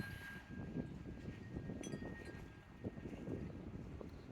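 Wind blowing across an open spring cemetery in Nashville, a steady broadband rush buffeting the microphone for the whole stretch, with slight gusts and rumbles but no talk.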